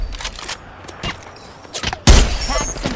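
Apex Legends gunfire: several sharp bursts of shots scattered through the stretch, ending in a loud, dense close-range volley in the final second, with game announcer lines in the background.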